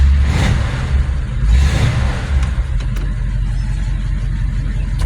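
A 1947 Ford Coupe engine runs steadily close by, a low, continuous chugging rumble with slight rises in revs and no talking over it.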